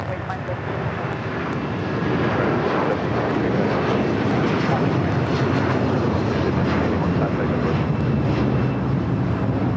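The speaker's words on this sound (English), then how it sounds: "This is United Airlines 1981 taking off to Newark on the 757-200." A United Airlines Boeing 757-200 departs LAX for Newark, a powerful, sustained jet roar swelling after the first couple of seconds and staying loud, with intermittent radio transmissions in the background.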